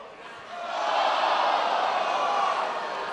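Wrestling crowd at a PWA Colosseum event reacting with displeasure, a dense roar of many voices that swells after a half second and holds loud and steady, with no clear speech on top.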